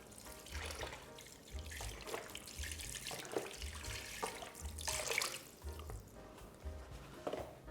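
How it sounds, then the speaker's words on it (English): Chicken stock from a carton pours into a pan of pork chops, a steady liquid splashing and trickling that runs continuously at moderate level, close by and alone. "I got chicken stock, so I'm gonna add in some of that here."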